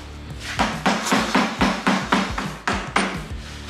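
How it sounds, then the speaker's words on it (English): A rubber mallet bumps the metal gear selector of a Peerless 2300 differential about ten times in a steady rhythm, each blow a dull thud with a short ringing edge, close by. "We're going to take this rubber hammer here, and we're going to just bump on the gear selector."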